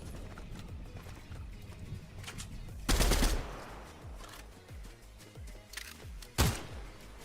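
SMG gunfire in a video game: short bursts of rapid shots stand out twice over a busy, rhythmic background of thumping game sounds.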